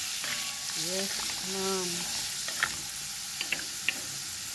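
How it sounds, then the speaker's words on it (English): Seasonings sauté in hot coconut oil for a Jamaican-style tofu curry, giving a steady close sizzle throughout, with a brief spoken reply, a short hummed tune and a few light ticks of utensils. "add the seasoning, all of these lovely seasoning. Yes, so they can saute."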